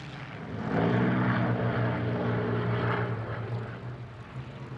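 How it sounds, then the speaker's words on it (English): Formation of ten Supermarine Spitfires with Merlin and Griffon engines passing at a 1999 British airshow, a deep propeller drone that swells within the first second and then holds as a loud, sustained roar. "The last of the formations was provided by no less than 10 Spitfires, representing both Merlin and Griffin engine types,"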